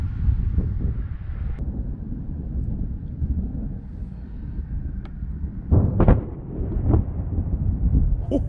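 Low, heavy rumbles of thunder from a lightning storm near Niagara Falls roll through steady wind buffeting the microphone, with a couple of sharper cracks near the end.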